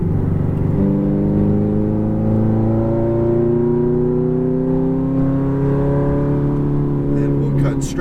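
Ferrari F430 accelerating back on throttle on a track, a loud in-car engine roar whose pitch climbs steadily over several seconds, with a voice talking over it.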